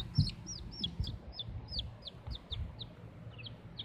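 A chicken bred for blue plumage colour clucks softly and repeatedly at a steady pace, with faint high chirps over a low background murmur.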